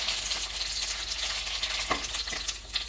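Pani puri shells fry in hot oil, making a dense, even sizzle at close range with a couple of soft stirring knocks near the end and no voices.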